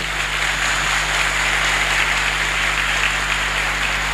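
Catholic church congregation giving a warm round of applause to welcome visiting non-Catholic brethren, a continuous hiss-like wash of clapping with a low steady hum underneath.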